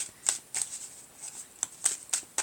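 Tarot cards being shuffled by hand, a series of quick, soft papery riffles and flicks coming in short irregular bursts, close and quiet with no talking.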